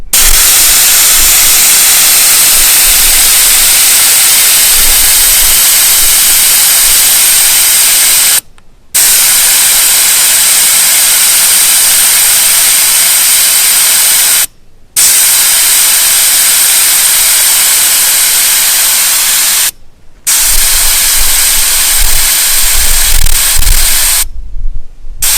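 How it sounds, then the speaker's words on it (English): Air hissing loudly from a four-wheel-drive tyre through an ARB tyre deflator, a harsh, steady rush that cuts out briefly three times and then resumes. "This is the ARB tyre deflator."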